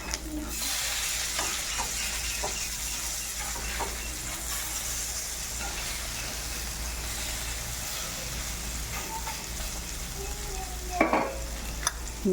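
Squid vadas frying in hot oil and being flipped, a continuous steady sizzle with soft bubbling and a few stirring clinks near the end, no voices.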